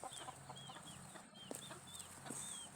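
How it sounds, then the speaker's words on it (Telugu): Native breed chickens on an integrated farm give soft, faint clucks and short chirping calls in a quiet yard, scattered irregularly with a few light knocks between them. "ఇవన్నీ జాతి కోళ్ళు"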